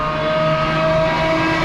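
A race car on a circuit during a Lucky Dog racing event at The Ridge, its engine a loud, sustained high-pitched drone held steady throughout the short passage, close by and with no talking.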